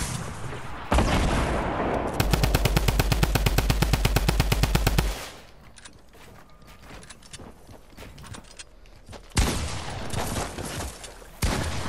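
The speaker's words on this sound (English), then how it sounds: "My gun shoots one more fucking time." Automatic gunfire in a video game: a long, rapid mechanical burst of evenly spaced shots lasting a few seconds, framed by shorter loud blasts and a quieter stretch of scattered clicks and effects, close and loud with no talk.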